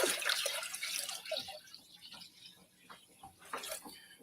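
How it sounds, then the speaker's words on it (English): Water splashing and trickling into a tub used for panning Klondike paydirt, irregular close drips and pours that fade and return, with no talk. "I'm going to add a little more water right now anyways"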